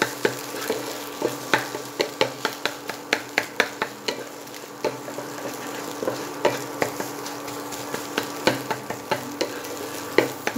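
Egg frying in a pan for Chinese-style mixed fried rice, a close, steady sizzle broken by repeated sharp clacks of a utensil stirring and smashing it, in an uneven rhythm with no talking.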